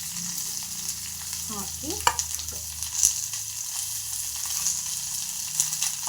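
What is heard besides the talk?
mustard seeds, curry leaves and onion frying in oil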